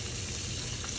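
Hot honey chicken tenders fry in oil with a constant, dense crackling sizzle, close and even throughout the short stretch with no voices.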